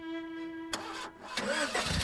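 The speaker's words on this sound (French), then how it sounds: "Et chauffeur, démarre la voiture." A car engine is started: a steady electrical hum gives way to the cranking starter, then the engine catches and settles into a mid-pitched idle, close and fairly quiet.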